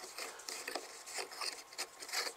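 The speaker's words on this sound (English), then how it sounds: "And here is the bulb going into the socket." An LED bulb being screwed by hand into a socket after repair of an internal wire failure, a quiet series of close, scratchy rubbing twists in an irregular rhythm with no talk.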